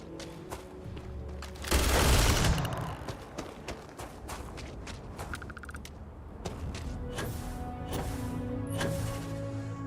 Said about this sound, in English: Are you shooting at flies now?